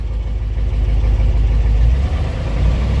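A 1959 Ford F-100 engine, run again after sitting for a year, rumbles steadily at close range in a deep, continuous idle with a slight surge partway through, and no talk over it.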